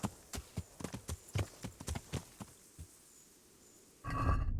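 Horse hooves clop on the ground in the medieval role-playing game Kingdom Come: Deliverance, a steady series of sharp, close hoofbeats that stops briefly before a louder rush of game noise.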